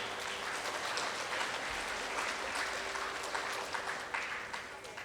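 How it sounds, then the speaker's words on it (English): An audience at a school event applauds the parents, a steady spread of clapping heard at a moderate distance through a room, continuing evenly for several seconds with a faint hum beneath. "So a big round of applause to all the parents here."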